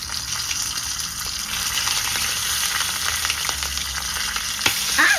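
Hot oil spatters and sizzles loudly in a pan of frying food after sand is added to stop the splattering, a dense continuous crackle close by with a few sharper pops.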